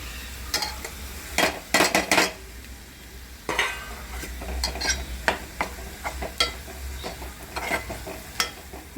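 Garam masala hitting browned onions in a pan: intermittent stirring scrapes and utensil clinks over a soft steady sizzle, close by with no talk.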